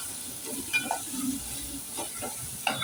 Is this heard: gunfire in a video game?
no